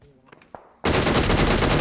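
A sudden loud burst of rapid automatic gunfire in PUBG Mobile, starting after a few quiet clicks and faint sounds and continuing steadily to the end.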